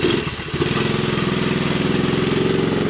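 A scooter engine runs steadily close by, its rough mid-pitched drone pulsing evenly after a brief dip near the start, with no talk over it.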